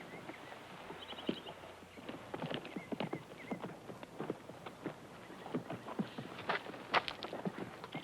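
A horse walks with steady, moderately quiet clip-clopping hooves over a low, constant background hum, and a few faint higher tones sound briefly.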